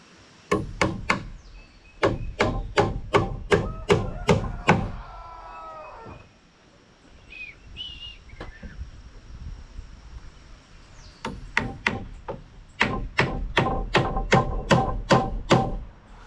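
Nails are hammered into wood while building a sawmill shed, with rapid runs of sharp, close blows, a quieter pause partway through, then another fast burst of strikes.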